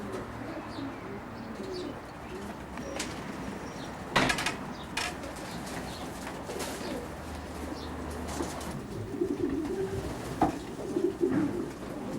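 Racing pigeons cooing softly in a young bird loft, with scattered chirps and a few bursts of wing flapping and shuffling nearby.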